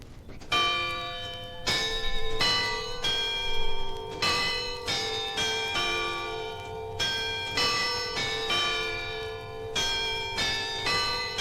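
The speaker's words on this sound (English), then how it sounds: "those two giant effigies, Gog and Magog, who strike different tone bells to announce the time" Gog and Magog effigies in the Greenfield Village jewelry shop strike tone bells to announce the time, ringing a steady sequence of bright, resonant chimes, each struck note overlapping the decay of the last, with no voices.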